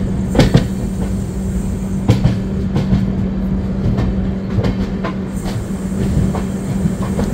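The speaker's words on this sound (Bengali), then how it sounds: "নিউ জলপাইগুড়ি জাংশনে কিন্তু ট্রেন আমাদের 1 নম্বর প্ল্যাটফর্মে দিল" A train stands at platform 1 of New Jalpaiguri Junction, giving off a steady low rumble and hum, with occasional sharp clanks and knocks from the carriages, loud and close.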